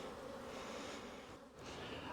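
Honeybees buzz steadily at an open beehive during a frame inspection, a dense close hum that dips briefly midway and then swells again.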